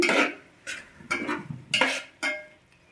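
Okra and tomato curry being stirred in a pan, a spoon scraping and clinking in several short, distinct strokes close-up with a soft sizzle underneath.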